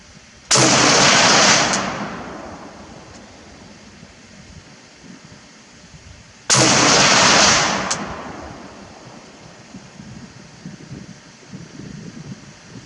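Two loud, sharp rifle shots from an IMI X95 chambered in 5.56x45mm, fired at a target about six seconds apart, each followed by a long fading outdoor echo over light wind.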